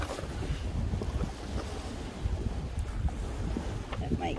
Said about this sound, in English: Boy, this wind.